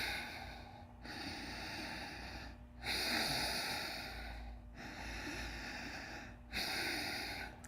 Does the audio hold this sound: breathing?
yes